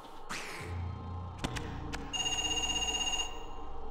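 A telephone rings in the Parasite Eve 2 video game, a steady electronic trill that comes in partway through. Sharp clicks and a low game background hum run beneath it.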